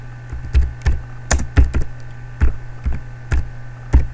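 Keys clack on a computer keyboard in uneven bursts of crisp taps, loud and close, over a low steady electrical hum with no talking.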